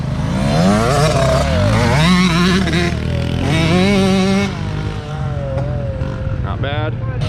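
A YZ65 and a CRF450L dirt bike accelerate side by side in a drag race, engines screaming upward in pitch through several gear shifts, loud and close, with voices talking over the engines.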